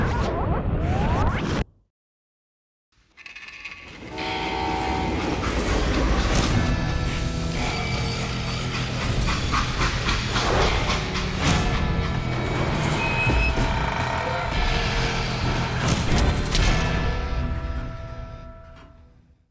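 A train grinds to a stop in the Western shooter Call of Juarez Gunslinger: a brief cutoff, then a loud, sustained rumble of wheels with hissing and shrill metallic squeals that swell and fade over about seventeen seconds, with no voices.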